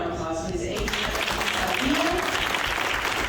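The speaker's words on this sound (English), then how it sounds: "I think a big round of applause, please." A big round of applause rises from an event audience, steady dense clapping that fills the whole stretch, with a voice speaking faintly over the start.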